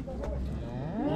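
A calf moos at a busy livestock market in Korday, Kazakhstan, a single drawn-out, close bellow rising and falling against a constant murmur of crowd noise.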